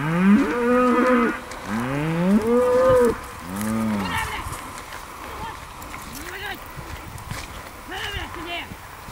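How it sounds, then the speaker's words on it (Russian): Several loud, drawn-out village cow moos, close by and overlapping, fading to softer lowing, with faint rustling and footsteps in the background. "все отбивают своих коров"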